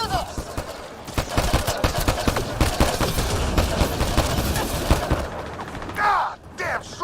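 Rapid sustained gunfire and explosions from a firefight in the video game Mass Effect: Andromeda, dense overlapping shots with bursts of automatic fire, heavy and close, shouted voices briefly mixed in.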